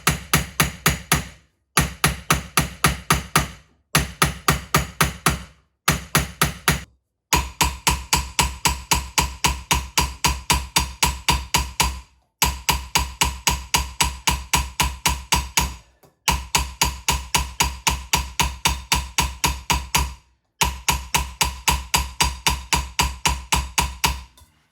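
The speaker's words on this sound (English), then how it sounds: "I'm going to planish it just on this stake, just going all the way around like this." Steady, rapid metallic taps of a hammer planishing a silver chalice on a steel stake, ringing in long regular bursts separated by brief pauses, close and loud with no talk.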